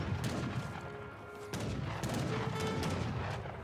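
Heavy cannons boom in an Age of Empires 3 battle, with a sharp blast mid-way amid continuous dense gunfire and crashing combat noise, at moderate level.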